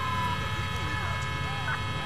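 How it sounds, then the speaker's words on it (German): Police car siren in the video game Grand Theft Auto IV, a wailing tone sweeping up and down at moderate level over steady game engine and traffic noise, with someone talking over it. "Oh, da ist doch ein Polizeiauto."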